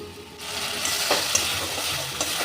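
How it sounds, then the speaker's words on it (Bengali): Green peas with turmeric and salt stir-fried in a pan, a steady close sizzle with a few sharp scrapes of the spoon through it, alone without any voices. "এই মশলাটাকে একটু নেড়ে নেব, ভালো করে কষিয়ে নেব।"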